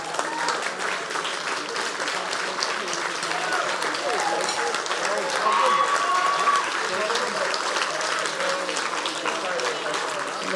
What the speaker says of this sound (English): Gary Harty, a round of applause, please